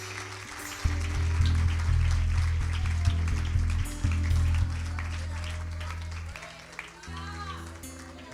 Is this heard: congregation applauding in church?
yes